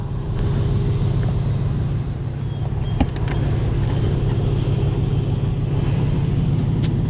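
Aston Martin DBX SUV engine giving a steady, deep rumble at idle, close and continuous with one brief knock partway through and no talking.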